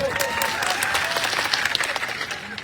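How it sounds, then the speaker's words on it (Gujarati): A rally crowd gives loud, dense, continuous applause for the police officers present, with a voice carrying over the clapping. "અહીંયા જેટલા પણ પોલીસ અધિકારીઓ છે એમના માટે જોરદાર તાળીઓ પાડી લો"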